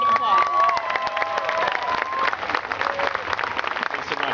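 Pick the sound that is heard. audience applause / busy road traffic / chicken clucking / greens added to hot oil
audience applause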